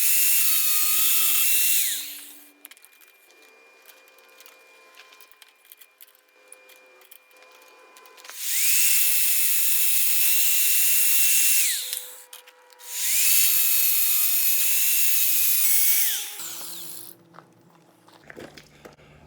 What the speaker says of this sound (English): I'm cutting up some extra rod